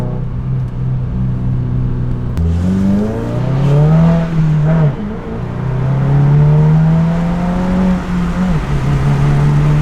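A low, steady exhaust rumble from a moving new 2022 Subaru WRX with a Remark exhaust, rising and falling in pitch as it shifts and accelerates, close and fairly loud throughout.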